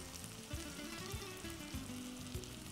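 Ingredients sautéing in a pan for a paneer dish, a steady close sizzle and frying hiss with a few soft stirring knocks, no talking.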